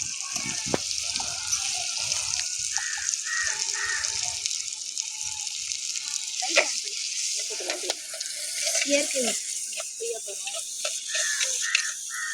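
A ground paste of onion, tomato and garlic sizzles in a pan over a wood-fired stove, a steady hiss and crackle throughout with light clinks and a voice talking now and then.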